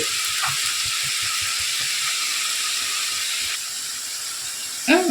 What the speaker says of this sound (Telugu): ఆనియన్ పేస్ట్ను వేసాక ఇలా బాగా వేగనివ్వాలండి కాస్త కలర్ మారేంత వరకు వేగనివ్వాలి